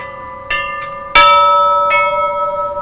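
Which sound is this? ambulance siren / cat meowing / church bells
church bells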